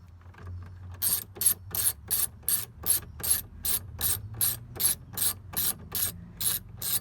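Ratchet undoing the 10mm nuts holding an exterior mirror on a Chevrolet Avalanche, about fifteen crisp, evenly spaced clicks close up, steady and alone with no talk.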